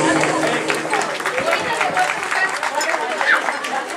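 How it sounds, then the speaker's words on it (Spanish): Wedding guests clap loudly and continuously in a dense, steady burst, mixed with crowd chatter and voices throughout. "Vamos a darles un fuerte y merecido aplauso, jóvenes, que se escuche por la felicidad de los novios."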